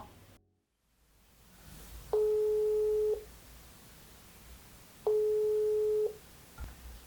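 A phone call tone plays over speakerphone through SoundPeats Capsule 3 Pro earbuds, two steady one-second beeps about three seconds apart over faint hiss.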